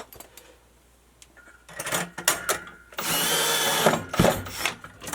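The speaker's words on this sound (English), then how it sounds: "I'll just put a couple screws here." A power driver whirs in short bursts and then a longer sustained run as screws go in to mount an electrical outlet box on a wall, loud and close, with clicks and handling noise between the runs.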